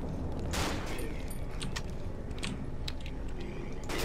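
Gunfire from the horror video game Cry of Fear: several sharp shots crack out at irregular intervals over a rumbling ambient background, fairly close and loud.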